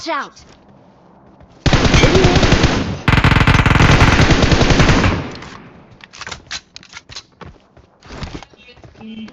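Loud bursts of automatic gunfire in the mobile game PUBG Mobile, two sustained rapid volleys back to back, followed by scattered single shots and clicks.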